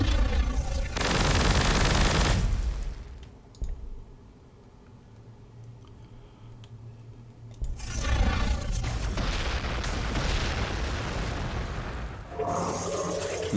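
A cannon fires in the Warhammer 40k Gladius strategy game with Necron forces, a loud booming blast that rolls off into quieter rumble before a second heavy burst of explosive noise and another later impact.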